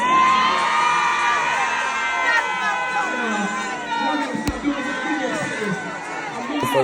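A large crowd at a holiday concert cheers and shouts, with high-pitched screams and whoops rising together, loud and energetic throughout.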